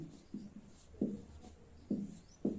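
Chalk or marker strokes tap and scrape on a board during a physics lecture on electric dipoles, several short close scratches in an irregular rhythm with no talking over them.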